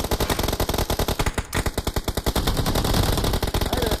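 Rapid automatic AK rifle fire in a team-based online shooter game, loud sustained bursts of closely spaced shots with a brief pause, dense and near throughout.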